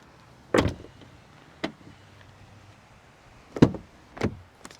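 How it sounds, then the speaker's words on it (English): Soft-close doors on a 2023 Range Rover P440e PHEV SE pulling shut on their own, heard as several short, sharp thuds and latch clunks spaced apart in a quiet setting, with no talking. "So you don't really have to slam the door. It's going to close automatically for you."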